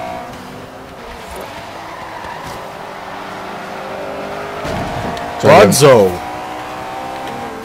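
Race cars in Forza Horizon 3 drone steadily through a racing game, with a louder burst of engine and tire noise near the end as a car passes close; a voice calls out briefly.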